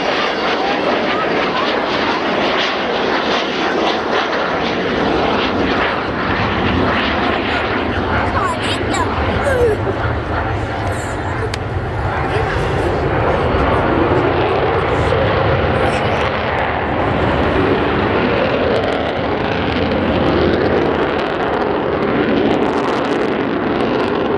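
A loud Avro Vulcan jet bomber engine roars continuously overhead at an air show, a broad rumbling drone that swells and shifts as the aircraft passes, with a voice partly buried beneath it.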